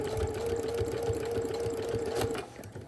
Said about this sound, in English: And then just keep sewing.